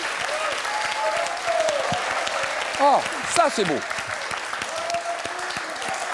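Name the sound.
audience applause on a French TV quiz show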